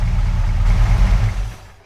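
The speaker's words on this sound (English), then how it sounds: "This is our big horsepower tractor, a Massey Ferguson," A big-horsepower Massey Ferguson tractor with a ripper attached runs in Farming Simulator 25, its deep engine drone holding steady and close before fading away at the end.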